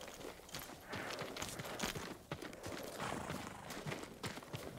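Horse hooves clip-clopping at a walk in the samurai video game Ghost of Tsushima, steady footfalls close by over a busy background of ambient game sound.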